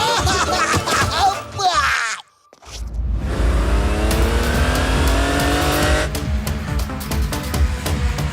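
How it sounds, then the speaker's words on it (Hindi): In a cartoon car race, engines roar and rev loudly with rising whines and squealing tires, a brief drop to near silence, then a sustained high-pitched accelerating engine drone under excited voices. "मोटू पतलू की गाड़ी इस समय सबसे पीछे चल रही है।"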